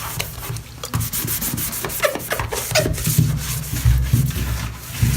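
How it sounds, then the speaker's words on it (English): Isopropyl alcohol being wiped onto a bathtub surface to prep for new silicone, a close, steady scrubbing rub with irregular strokes and light knocks, no voices. "I'm just applying the isopropyl alcohol in the area that I'm going to be placing"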